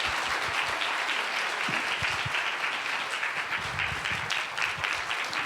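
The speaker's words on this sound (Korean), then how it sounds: "박수로 환영하겠습니다" A church congregation gathered for a healing revival service applauds steadily to welcome a visiting pastor, a dense, even wash of clapping from many hands throughout, moderately distant.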